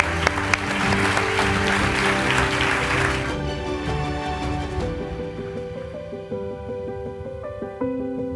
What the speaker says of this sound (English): Congratulations and a round of applause to the girls.